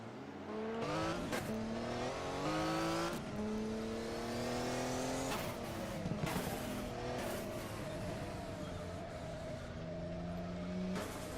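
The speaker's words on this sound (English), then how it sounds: "There's Boss down the straight using the slightly quicker factory car" A factory racing car engine roars down the straight during a 200-mile race at Nürnberg, rising through the gears with repeated climbing pitch sweeps and shifts, loud and continuous with no talking.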